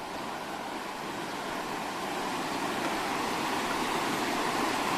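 A river flows steadily beneath a footbridge near a village below Mount Kelir, a constant broad rushing of water with no pauses, close and moderately loud throughout.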